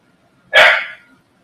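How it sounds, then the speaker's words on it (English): A single loud, close dog bark bursts out sharply and trails off over about half a second, with no talk around it, from a dog agitated indoors. "Dog is freaking out."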